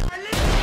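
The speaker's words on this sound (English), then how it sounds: "Suicide bomb!" Sudden suicide bomb explosion in Garry's Mod Trouble in Terrorist Town, a loud close blast after a brief dip, with a booming, crackling tail that fills the short moment.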